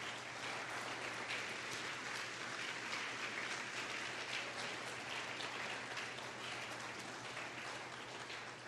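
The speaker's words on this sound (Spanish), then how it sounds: "Si le va a dar un aplauso, déselo fuerte a Dios." A church congregation applauds loudly for God during a sermon, a dense, continuous wash of clapping that holds steady and distant over a low hum, with no speech.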